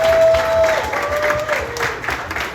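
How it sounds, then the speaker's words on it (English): A business networking event audience applauds for a sponsor, a loud crowd of clapping hands with some cheering and a sustained whistle, fading gradually over a couple of seconds. "give them a nice round of applause"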